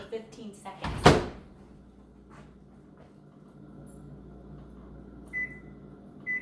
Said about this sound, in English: we're going to put it back in the microwave, but this time we're only going to put it on for 15 seconds